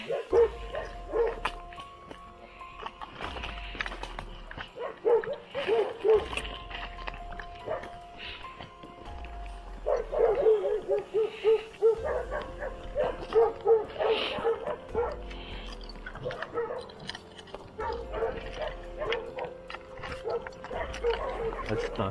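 Dog barking and yipping in repeated bursts during a night manhunt outdoors, moderately close, with people talking over and between the barks.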